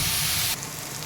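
Tomato pieces hitting a hot pan of fried onion and garlic, a loud, steady hiss of frying for half a second that then drops to a softer, continuing sizzle.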